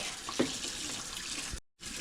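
Hot water gushes from a kitchen sink faucet in a steady, close rush, briefly cutting out near the end before resuming.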